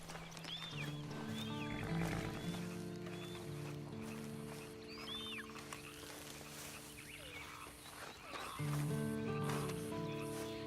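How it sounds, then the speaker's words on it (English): Horses in Red Dead Redemption 2 whinny and neigh several times while hooves clip-clop, set against a wild outdoor ambience of birds, insects and rustling. "And you better get on this horse."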